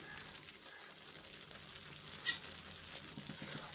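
Soft, steady sizzling of shallots and green chillies sautéing in a pan, quiet and continuous, with a brief metallic clink partway through.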